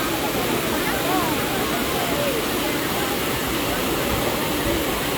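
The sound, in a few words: waterfall rushing water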